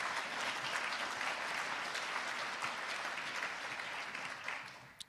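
Audience at Seattle's State of the City address clapping in a steady, fairly faint round of applause that carries on evenly before tapering off with a few final claps.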